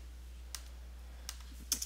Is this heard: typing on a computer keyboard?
yes